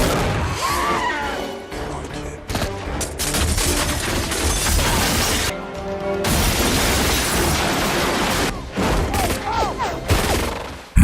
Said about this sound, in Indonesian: Ratusan tembakan terus dilancarkan dan kedua belah pihak kehilangan banyak nyawa